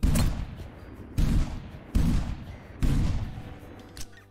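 Four loud, near shotgun blasts from a Beretta A400 Extreme Plus Synthetic in the hunting game Hunting Simulator 2, each a sharp boom with a short decaying tail, spaced about three-quarters of a second apart, with no talking.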